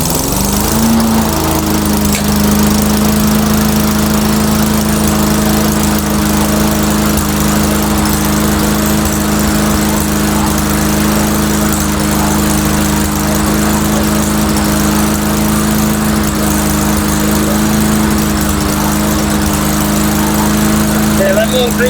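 A Mastercraft lawn mower engine, just repaired after an engine swap, runs loud and close with a steady, unbroken drone from start to finish.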